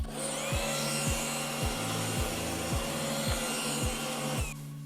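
A Roomba 900 series robot vacuum runs a diagnostic spin test, its motor whirring steadily with a regular rhythmic ticking repeating about every half second until it stops near the end.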